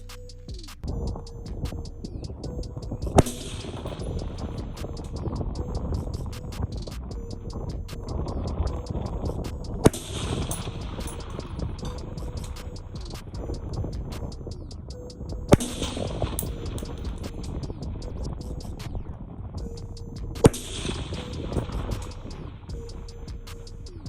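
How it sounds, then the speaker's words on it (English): Four sharp rifle reports, several seconds apart, fired at night toward a 1000-yard target, each a brief crack that stands above a constant chorus of crickets and frogs. "I'm not gonna waste that much ammo, so I'm just only gonna shoot 5 shots."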